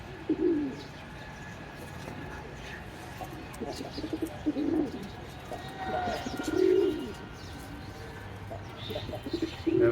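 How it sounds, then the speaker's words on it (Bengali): A green-necked pigeon coos close by, giving several soft, low calls spaced across the stretch. Faint chirps and background noise sit underneath. "এটা কিন্তু একটা সবুজ গলা কবুতর"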